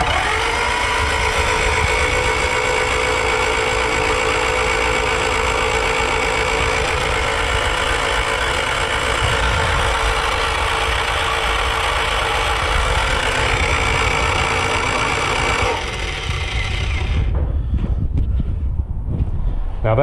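An old Willys Jeep F-head or L-head engine pulled from the junk pile cranks over on its starter with a steady, loud churning drone for around fifteen seconds, followed by rumbling noise and faint talk.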